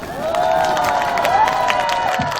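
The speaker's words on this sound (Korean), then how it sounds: "박수 소리 나는데 함성 소리가 안 나니까 음악이 안 나죠." A crowd claps and cheers over steady music at an outdoor festival concert performance, the applause sustained and fairly loud throughout.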